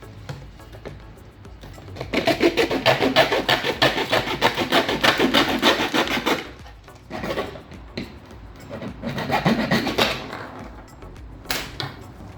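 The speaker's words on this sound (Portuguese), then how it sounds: "Vou serrar uma das garrafas" A plastic bottle being hand-sawn outdoors, a steady back-and-forth rasp that runs for several seconds, breaks off briefly, then resumes in a shorter burst with a few scattered scrapes.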